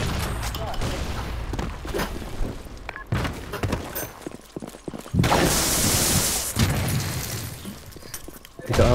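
Gunfire in a shooter video game: dense volleys of shots and crashing impacts, loud and busy throughout, with a heavy burst about two-thirds of the way in. Voices talk over the action.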